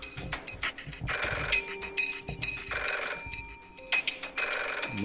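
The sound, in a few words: telephone ringing, the banker calling in a deal game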